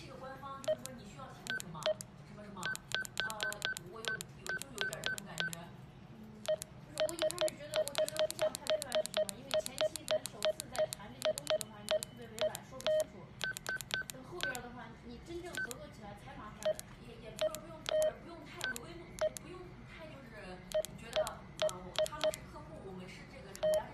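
DTMF keypad tones sound as an Ailunce HD1 handheld radio is programmed from its keypad, with quick runs of short beeps in bursts and pauses alongside steady faint hiss, no voices heard.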